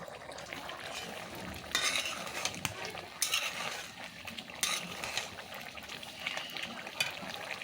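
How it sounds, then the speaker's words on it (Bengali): Chicken curry is stirred in a pan with a spoon, giving quiet scraping and clinking scrapes in several louder bursts over a soft background. "আবার একটু সুন্দর করে আমি নাড়িয়ে নিলাম"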